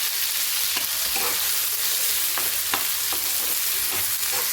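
Mashed green pea paste fries in a pan with a steady hiss, and scattered clicks and scrapes come from a spoon stirring it; nobody speaks.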